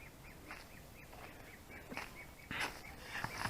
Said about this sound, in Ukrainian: Качки собі, качки собі ходять, всі разом